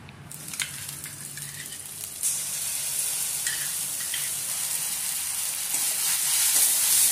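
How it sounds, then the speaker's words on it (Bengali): Masala and gram flour paste sizzles steadily in a pan for a Gujarati-style dahi bhindi, a close, continuous frying hiss with faint stirring, no voices. "এটা জাস্ট আমি 2 মিনিটের মতো মশলাটা একটু কষে নেব।"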